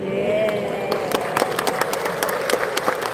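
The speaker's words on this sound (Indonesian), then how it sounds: "Tolong jangan tepuk tangan" A crowd listening to a Catholic priest's humorous sermon breaks into scattered, uneven clapping, with a voice speaking over the applause.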